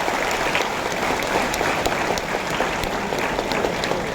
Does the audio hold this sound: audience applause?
yes